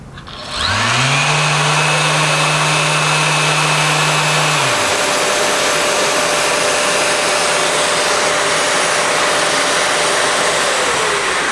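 A power sander starts up and runs loud and steady at high speed while sanding epoxy, with its pitch stepping down partway through and a continuous whine holding to the end.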